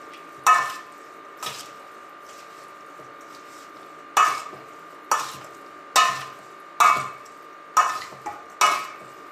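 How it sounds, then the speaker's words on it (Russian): A spoon stirring a marinade of sugar and dry mustard in a bowl for pickled fish, with about nine sharp, ringing scrapes and clinks in an irregular rhythm, close and clear with no talk. "И перемешиваем."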